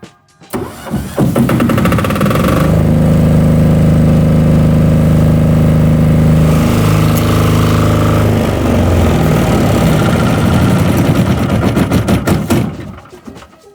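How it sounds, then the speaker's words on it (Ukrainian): A Matari diesel generator, its glow plug preheated, cranks and catches, then runs loud and close with a steady, even rumble for several seconds before cutting off. No one speaks. "і можемо запускати генератор"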